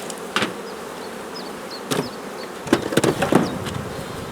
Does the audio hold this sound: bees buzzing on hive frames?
yes